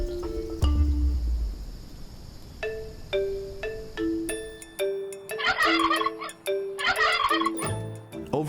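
Wild turkeys gobble in repeated bursts near Lake Ontario, several rattling calls rising one after another, fairly loud and close against a quiet outdoor background.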